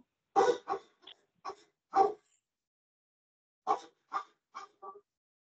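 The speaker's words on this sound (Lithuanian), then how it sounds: "Jau tavo šuniukas neduoda ramybės." A small dog barks in two short bursts, five quick barks then four more after a pause, close and fairly loud with no other sound between them.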